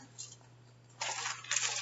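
A coin dropped onto a computer, a brief faint clatter and rattle, close and quiet, over a low steady hum.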